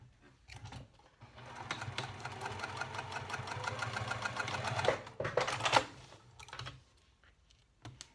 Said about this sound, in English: Flip and top stitch.